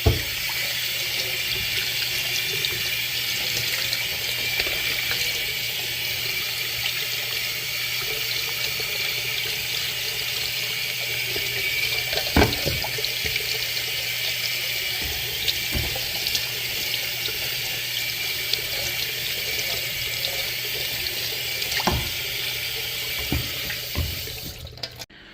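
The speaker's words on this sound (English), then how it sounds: "Rinse it off with cold water." Cold water runs from a tap over an RC race buggy part held in a sink, a steady close hiss of flowing water with occasional knocks and splashes as the part is rinsed.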